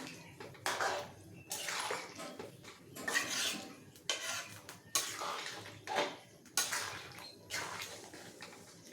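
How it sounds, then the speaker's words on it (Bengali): Cornflour slurry being stirred into chilli chicken in a pan: repeated scraping, clattering strokes of a utensil against metal in uneven bursts, close and moderately loud, with no talk. "কর্নফ্লাওয়ার গুলা জলটা দিয়ে দিলাম নাড়তে থাকবো"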